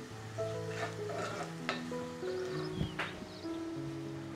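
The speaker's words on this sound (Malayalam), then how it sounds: "സവോള ഗോൾഡൻ ബ്രൗൺ ആകുന്നേരം വരെ വഴറ്റിയെടുക്കാം." Chopped onions sauté in hot vegetable oil, a soft continuous sizzle with occasional scrapes and taps of a stirring utensil against the pan, close, with steady background music and no speech.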